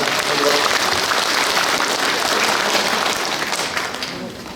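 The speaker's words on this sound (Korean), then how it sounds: "큰 박수 부탁드리겠습니다" Audience applause at a housing redevelopment association's annual general meeting, a dense, steady wash of many hands clapping throughout that thins slightly near the end, with faint background murmur.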